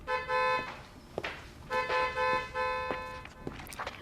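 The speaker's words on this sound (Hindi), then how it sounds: "क्यों हॉर्न बजा रहे हैं?" A car horn honks in repeated bursts, two longer blasts followed by shorter toots, moderately loud in an indoor domestic scene with faint background noise.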